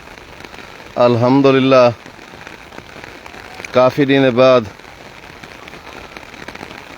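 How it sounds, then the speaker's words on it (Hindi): Heavy downpour in Taunsa Sharif makes a steady broadband hiss of rain on surfaces throughout, while someone speaks over it in two short bursts. "बारिश आ गई है।"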